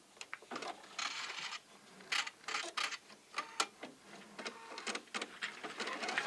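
A home embroidery machine stitches out an edge-to-edge quilting pattern on a quilt, giving a close, steady run of rapid mechanical ticks and clatter that comes in short bursts separated by brief pauses, with no talking.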